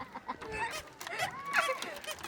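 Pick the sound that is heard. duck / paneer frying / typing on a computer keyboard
duck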